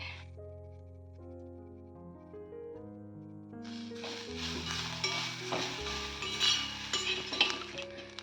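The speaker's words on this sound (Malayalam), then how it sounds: "തേങ്ങയൊക്കെ ഒത്തിരി വറക്കണ്ട, ഇത്രയായാൽ മതി." Grated coconut fries in a pan with ginger and curry leaves, giving soft sizzling and scraping stir strokes that grow busier and louder toward the end, with brief utensil knocks against the pan.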